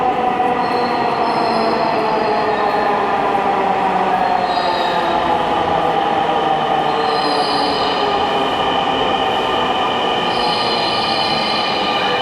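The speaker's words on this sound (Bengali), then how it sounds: "এই ঢাকা মেট্রো হলো বাংলাদেশের রাজধানী ঢাকা শহরের একটি দ্রুতগামী গণপরিবহন" A Dhaka Metro Rail train between Motijheel and Uttara runs loud and steady, with a continuous rumbling roar and repeated high wheel squeals, heard from inside the car.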